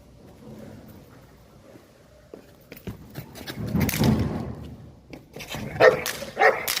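A Cane Corso bitch barks aggressively in several loud, close bursts, growing more intense toward the end, with a voice briefly under it.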